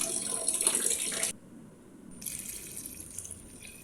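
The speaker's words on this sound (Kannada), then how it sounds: "4 ಲೋಟ ನೀರು ಹಾಕ್ಕೊಳ್ಬೇಕು" Water pours into a pan for vegetable ghee rice, a close, bright rushing stream that stops abruptly, then resumes more softly after a short pause, with no talking.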